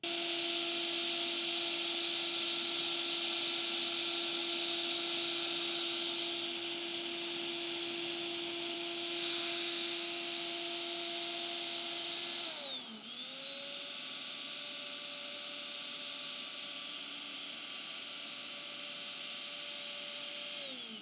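A Trend T8 plunge router cuts through chipboard, a loud steady motor whine that holds for about twelve seconds, dips briefly as the bit loads in the cut, then resumes at a slightly lower steady pitch, with no talking.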